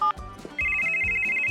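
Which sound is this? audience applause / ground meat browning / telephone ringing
telephone ringing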